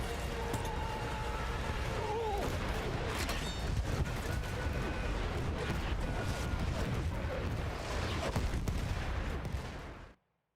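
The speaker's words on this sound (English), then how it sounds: "a man hits you over the head and then an airstrike happens" Airstrike explosions from a first-person shooter video game, heard as a dense, continuous roar of blasts and rumbling booms that stays loud throughout before cutting abruptly to silence near the end.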